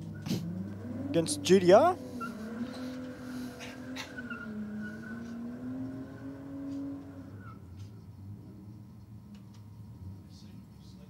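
An earlier-model Honda Civic Type R race car accelerates on a circuit, its engine note climbing sharply with a brief squeal before settling into a steady, fading drone under a commentator's voice.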